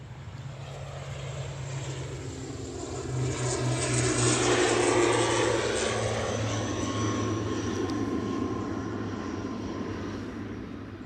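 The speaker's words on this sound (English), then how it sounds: "right behind this one is an ATR on very, very short finals" An ATR turboprop on very short final at Aberdeen airport passes overhead, its propeller drone and whine swelling to a peak midway then easing, loud and continuous throughout.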